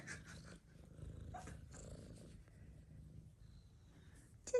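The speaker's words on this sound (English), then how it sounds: "You got your purr box going." Soft, low rumbling purr pulses close by at low volume, with a few faint rustles and a small clink at the end.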